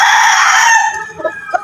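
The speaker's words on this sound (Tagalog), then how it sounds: "Ang ganda ng manok niya, no?" A rooster on a small backyard farm gives a loud, close crow that trails off, followed by a couple of short clucks.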